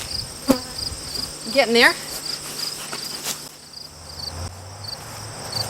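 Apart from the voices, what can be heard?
honey bees buzzing around backyard hive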